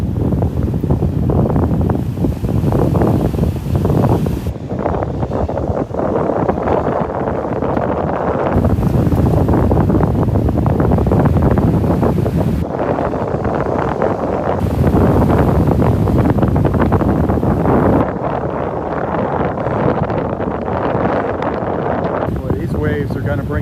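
Ocean waves wash onto a beach at Delnor-Wiggins under heavy wind buffeting the microphone, a rough continuous roar that swells and eases, while someone talks over it.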